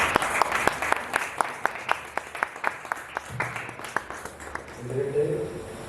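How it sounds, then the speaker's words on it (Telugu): An audience at a church gospel message competition meeting at Grace Lutheran claps in a sharp, steady rhythm of single claps, then the clapping fades as murmuring voices rise at the end. "క్లాప్స్"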